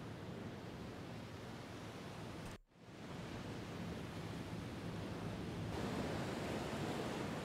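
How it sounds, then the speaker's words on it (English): Choppy open sea outside a harbour in the UBoat submarine game roars as a constant wash of waves and wind, loud and steady, cutting out for a split second before resuming and swelling slightly toward the end. "With the sea unusually choppy, this is going to be an unpleasant ride."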